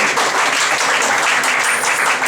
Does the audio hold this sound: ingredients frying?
no